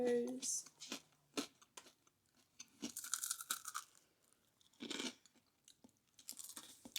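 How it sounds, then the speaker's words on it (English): Crunching bites of an oil-free air-fried garlicky snack, several sharp crisp crunches spaced out between chewing, close and fairly quiet, with people talking around them. "Oh, listen to that crunch"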